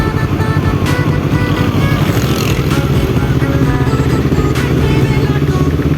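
A Honda CBR250RR motorcycle engine held at high revs around 5000 RPM, a loud, close, buzzing drone with a dense, rough texture that stays level throughout.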